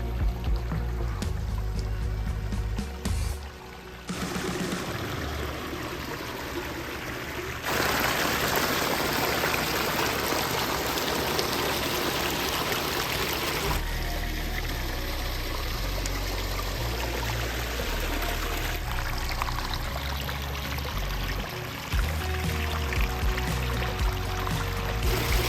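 Garden pond water feature trickling and splashing in a backyard, continuous nearby flowing water that swells and eases as the sound shifts, with no voices over it.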